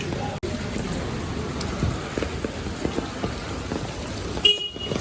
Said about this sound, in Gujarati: વરસાદ જ એવો છે ને કાંઈ ઘટે નહીં